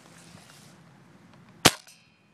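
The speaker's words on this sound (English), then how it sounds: "We're gonna shoot it with my BB sniper now," A single sharp, loud BB sniper rifle shot strikes a PSP with a crisp crack and brief metallic ring, following a quiet stretch of low room noise and faint movement.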